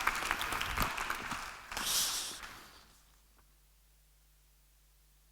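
An audience claps for a speaker being invited on stage at a journalism talk, a broad burst of applause that fades away over a few seconds into quiet room tone.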